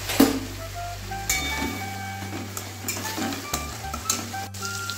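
Chopped tomatoes frying in oily spice masala for vegetable khichdi, a gentle continuous sizzle with scraping and light clinks as a spoon stirs the pan close by.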